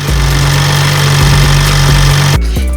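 A BMW M135i engine idles loud and close after a rocker cover gasket change, a steady rumbling drone that cuts off abruptly near the end.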